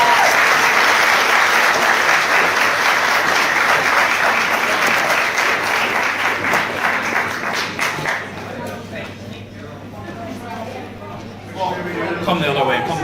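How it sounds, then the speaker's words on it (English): Loud, dense round of applause from a crowd at a company's 25th anniversary ball, sustained for several seconds before tapering off into scattered claps and murmuring voices. "Give the two of them a nice round of applause"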